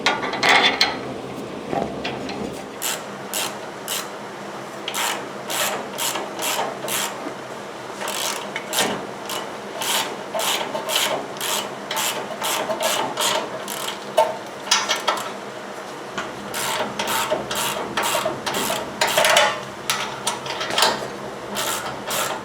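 Ratchet wrench driving Loctite-coated bolts up under the control arm into the steering knuckle of a Toyota Tacoma SR5 4WD during a front CV axle replacement; steady rapid clicking strokes in bursts, close and fairly loud, with no talk.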